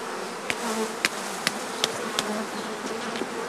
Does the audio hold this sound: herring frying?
no